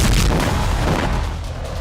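Heavy bombing in Gaza, a loud deep explosive boom with a rumbling low-end roll that slowly decays over nearly two seconds, with no voices.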